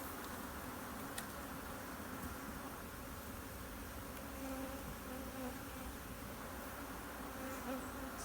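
A dense, steady buzz of many honeybees inside a hive during drone trapping, soft and continuous with no voices.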